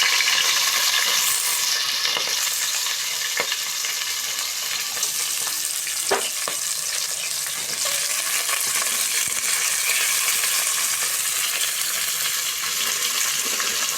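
Chopped onion sizzles steadily in hot oil for paneer biryani, a bright continuous hiss broken by a few clinks of a stirring spoon, close and moderately loud with no talking.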